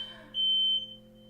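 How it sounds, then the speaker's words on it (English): A fire alarm going off indoors: one loud, shrill electronic beep, held for about half a second and then cut off, with a quiet room before and after. "sorry about that, fire alarm went off."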